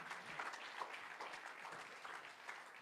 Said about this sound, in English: Give the Lord a hand clap of praise tonight.